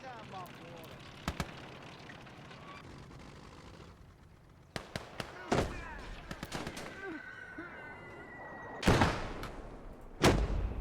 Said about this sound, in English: All right, let's use the mortars.